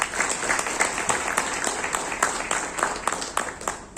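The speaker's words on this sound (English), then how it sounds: "please a round of applause for the entire leadership team" At an industry association's annual general meeting in Goa, the audience gives the leadership team a round of applause, with steady, fairly close clapping and distinct sharp claps throughout.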